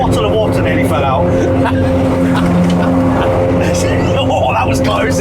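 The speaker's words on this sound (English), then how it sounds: "Oh, a slight incline and you can already hear the tone difference in the tyres." Tyre roar from an American pickup truck climbing a highway incline, a steady broadband road hum with a low droning tone throughout, heard from inside the cab with occasional faint voices.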